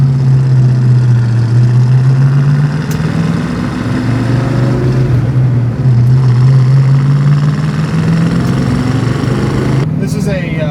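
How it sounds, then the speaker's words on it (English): A 1966 Ford Mustang's 351 Windsor V8 with AFR aluminum heads warming up on high idle: a loud, steady, throbbing engine drone close by, with someone talking over it. "We're still up on high idle here, so it's probably revved up a little bit in the video, but it's just warming up,"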